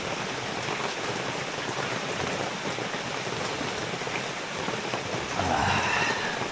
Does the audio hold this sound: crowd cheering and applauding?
no